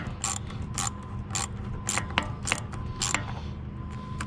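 A ratchet tightens the intake clamp on a turbocharged 2.0L LNF Solstice GXP, Saturn Sky or Cobalt, clicking in about six rapid, evenly spaced bursts close up over faint background noise.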